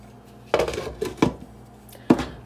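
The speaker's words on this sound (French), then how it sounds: "Je vais maintenant fermer ma casserole." A metal lid clanks onto a cooking pot in a few sharp, close knocks spaced unevenly, with a quiet kitchen backdrop between them.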